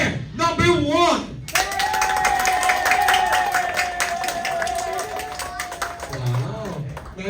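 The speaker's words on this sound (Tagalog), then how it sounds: "Meron po kayong 12 na palakpak." Guests clap together during a game at a children's McDonald's birthday party, a steady patter of hands running for several seconds beneath loud music and voices.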